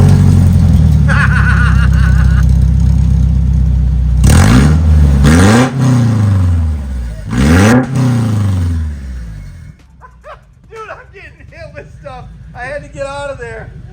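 A Toyota Tacoma engine with a new exhaust revs loudly in several roaring pulls that rise and fall close by, then settles to a lower idle as voices talk near the end.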